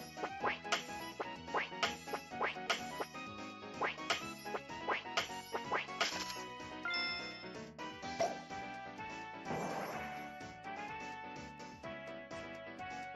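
Repeated quacks from a duck in a Pokemon X and Y video game minigame ring out in a quick regular series over game music, then give way to musical jingles and chimes.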